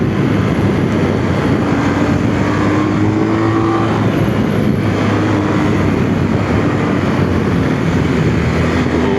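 A lightweight, powerful BMW GS motorcycle out on the road gives a steady, unbroken engine drone blended with heavy wind rush, loud and constant from start to finish with no one speaking.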